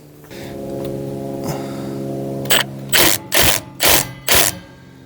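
Screw being driven into the wood of a garden gate: after a low hum, four short loud whirring bursts of a driver in quick succession, each spinning up and stopping, close by.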